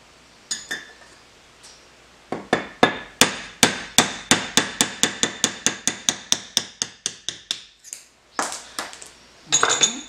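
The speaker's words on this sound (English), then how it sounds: "For that, I'm going to need a hammer." Hammer striking a steel punch to drive out an alignment pin on an indexing angle plate, a long run of sharp metallic ringing blows, close and loud, after a few opening taps and a short pause.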